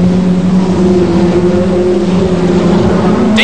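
A Ford Sierra RS500 touring car racing flat out in a British Touring Car Championship race, a loud sustained engine drone at high, steady revs, close and continuous with no talk.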